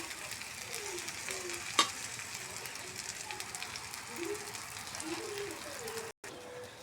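Methi paratha frying in oil on a griddle, a soft steady sizzle with faint crackles and one sharp clink, low and close, with a brief dropout near the end.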